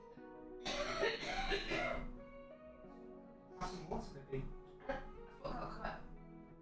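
Someone coughs several times over a voice call, with harsh bursts in two clusters over faint background sounds.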